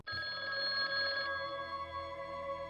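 A hotel telephone rings loudly and close by, one bright electronic ring that sounds at full strength and then fades slightly toward the end.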